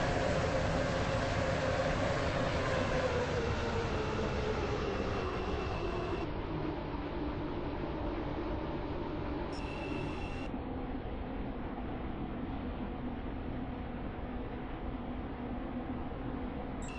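A train in the Stepford County Railway video game rolls into a station, a steady low mechanical drone and rumble holding at moderate level with no voices.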